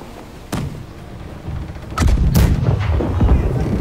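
Ship cannons fire in a naval battle in the pirate video game Blackwake: several heavy, loud booms at irregular intervals over a constant rumbling din, with no voices.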